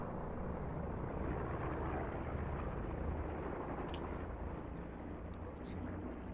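A helicopter or airplane in the video game Call of Duty Black Ops 4 gives a continuous, heavy, rumbling roar with a droning whir that stays steady throughout, with faint game sounds on top.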